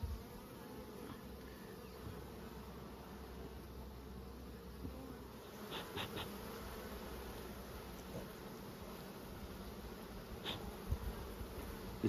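Honey bees buzz around an open ten-frame hive during supering, a steady, dense insect drone close by with a few brief louder swells, no voices.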